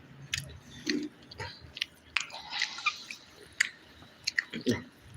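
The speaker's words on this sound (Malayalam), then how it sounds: "ഒരു ചിക്കൻ ഫ്രൈ കൂടെ നമുക്ക് കഴിക്കാം" Fried chicken being eaten up close: moist, crunchy bites and chewing come in irregular bursts with short pauses between them.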